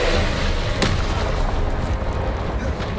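A Confringo blasting spell explodes in the Hogwarts Legacy video game, a loud, dense rumbling blast that fills the whole stretch with roaring noise and a sharp crack partway through.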